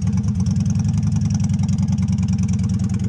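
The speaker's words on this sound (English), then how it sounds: "that's the motorcycle" A motorcycle engine idling close by, a steady low rumbling throb with a fast even pulse and no change in pace, loud and alone.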